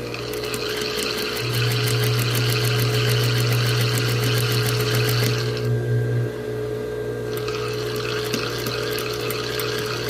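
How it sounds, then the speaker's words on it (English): Sewing machine stitching a quarter-inch seam to the end on a quilt inward corner, a steady mechanical whir held for several seconds and then stopping, close, no talk. "And then I'll sew to the end."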